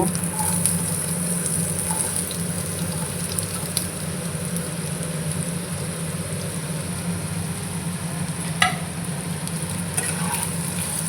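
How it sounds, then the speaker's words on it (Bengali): Cut potatoes are stirred in a frying pan over a low gas flame, giving a steady, broad sizzle with faint scraping and one sharp clink near the end, no voices. "আলুগুলো নেড়ে ছেড়ে নেব"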